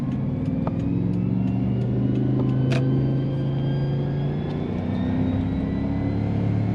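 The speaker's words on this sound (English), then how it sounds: "We just accelerate off gradually here" A Toyota Hilux with a swapped-in 3UZ-FE V8 engine accelerates gradually in first gear, its steady, loud engine drone climbing slowly in pitch with no talk over it.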